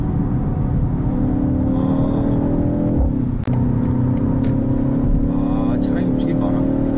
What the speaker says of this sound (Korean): 뒤에서 쿼드 배기 시스템에서 나오는 팝콘 소나 뱅 사운드는 굉장히 사람의 마음을